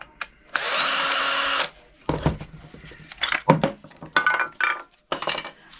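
A power drill unscrewing screws from a power adapter being scrapped, with one steady whirring burst followed by short clattering knocks and metallic clinks of screws and parts being handled.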